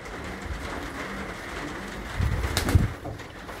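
Pigeons coo softly on a roof amid steady outdoor background noise, with a louder rustle or flutter near the end.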